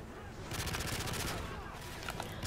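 Video game gunfire in Modern Warfare 3 Spec Ops, rapid bursts of automatic fire crackling continuously, loud and dense over a rumbling battle background.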